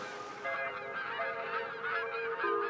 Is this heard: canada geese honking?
yes